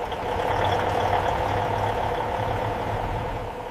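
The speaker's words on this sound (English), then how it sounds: "The engine starts and the lorry vibrates with power." A lorry engine runs steadily at idle on a factory floor just after starting, a continuous low rumble with mid-range drone, fairly loud and alone.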